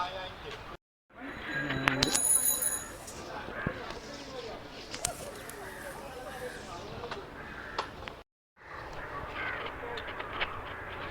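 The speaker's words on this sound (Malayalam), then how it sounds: "ഒരു കാക്കയുടെ വലിയ ശല്യമുണ്ട് കേട്ടോ" Crows caw repeatedly around the streets of Fort Kochi in Kerala, harsh calls at varying distances with voices talking in the background and brief dropouts in the sound.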